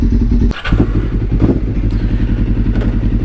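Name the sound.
motorcycle engine idling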